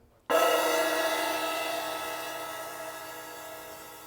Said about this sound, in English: a cymbal that's called a rivet cymbal or a sizzle cymbal, and it sounds a bit like this